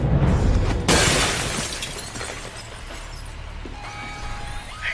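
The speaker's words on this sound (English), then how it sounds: "you might be able to find a way to break the glass" Glass shatters loudly in a single crash in the spy game Alpha Protocol, followed by a long fading rumble and scattered tinkling fragments settling afterward.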